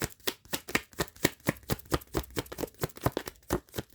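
A deck of tarot cards is riffled and shuffled close up, a quick run of crisp papery flutters and taps in an uneven rhythm with no talking.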